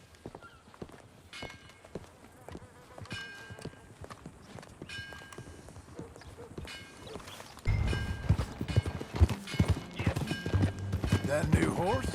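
Steady clip-clop of horse hooves in the video game Red Dead Redemption plods along under voices talking, growing louder and fuller partway through as more hoofbeats join in.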